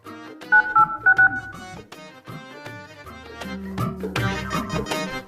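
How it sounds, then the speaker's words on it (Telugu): Phone keypad tones as a number is dialed at home, a quick series of short, loud beeps heard over background music. "భరత్యాన్ కన్నా ఫోన్ చేద్దాం ఒకసారి"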